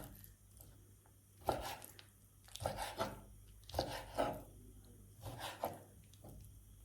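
Soft, irregular thuds and cuts of a knife working through chicken meat on a board, several strokes at an uneven pace, fairly quiet.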